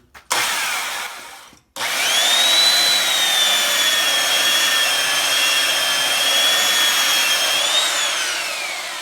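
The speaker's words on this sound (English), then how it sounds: "so that's why he's using his belt sander" Belt sander running over a paint-grade cabinet face frame, a loud continuous whine after a brief start and stop, steady and close with no talk.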